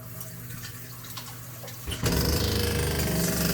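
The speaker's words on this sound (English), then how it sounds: "As usual, I have to get soaking wet to turn on the shower." A hotel shower is turned on. After a couple of seconds of quiet room noise and small clanks, water bursts out and keeps spraying in a loud, steady rush.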